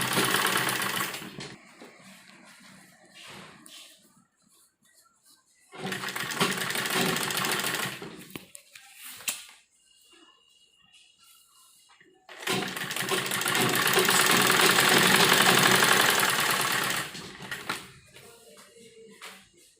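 A sewing machine stitches frock fabric with elastic in two long steady runs separated by quieter gaps with handling noise, close and loud.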